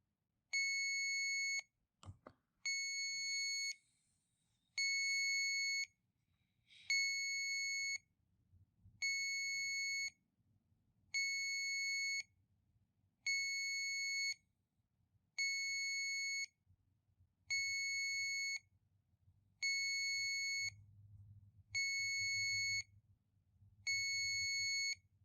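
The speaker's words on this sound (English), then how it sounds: "And it'll beep until it warms up like this." An automotive refrigerant leak detector sniffer beeps while warming up, a shrill electronic tone in evenly spaced one-second pulses, about a dozen in a row. A quiet low hum sits beneath.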